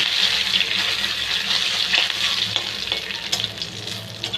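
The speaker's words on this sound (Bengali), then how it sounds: "পাঁচফোড়ন সম্বার দিয়ে দিব" Panch phoron and bay leaf frying in hot oil, a steady close sizzle with light stirring scrapes throughout, no talking.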